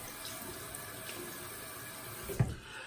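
Water runs steadily from a tap at a barbershop, used to wet a face for a shave. The hiss is faint and constant, and a brief knock and splash come near the end.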